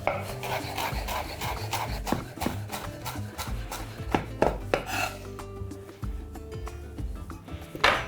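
A knife chops fresh mint leaves finely on a board, a close, quick run of repeated taps that pauses briefly and resumes, with no talking.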